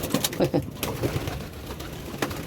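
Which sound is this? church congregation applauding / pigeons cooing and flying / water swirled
pigeons cooing and flying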